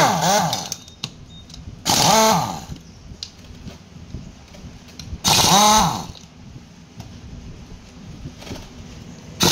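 Power tool whirs in two loud bursts of about a second each while loosening bolts on a Honda Wave S110 clutch cover, with quiet workshop gaps and faint clicks between them.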